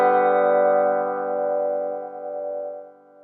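Electric guitar open strings strummed once through two phase pedals switched off, a clean sustained chord ringing close and slowly decaying over a few seconds, with no voices.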